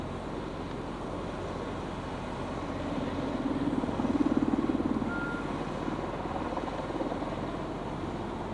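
A Sikorsky S64F heavy-lift helicopter working at a heli-logging site near Shaw Creek, Lake Cowichan, a continuous distant rotor drone that swells as it passes closer mid-way and then eases off again.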